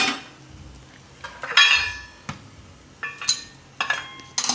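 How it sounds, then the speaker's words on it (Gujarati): A kadai pan clatters onto a kitchen stove, with several sharp metallic clanks and rattles spaced through the moment, loud and close, with no talking. "અને કઢાઈ મૂકી દેવું."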